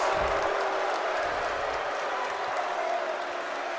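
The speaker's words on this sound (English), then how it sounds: "Fairfield crowd has come alive. They're loving this." Fairfield men's basketball home crowd roaring during a game against Saint Peter's, a dense, steady wall of cheering and noise with no breaks.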